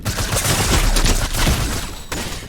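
Rapid gunfire from an online first-person shooter game, a dense continuous burst of shots sustained loudly throughout with a sharp extra crack near the end.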